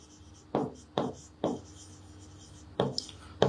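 Chalk strikes and scrapes across a board during a math lesson, making five short, sharp, irregularly spaced writing strokes close by in a quiet room.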